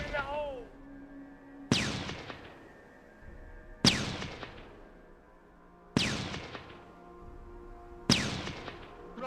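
Four evenly spaced, booming artillery shots in the strategy game Shadow Empire, each a sharp loud blast that fades into a rumbling decay about two seconds apart.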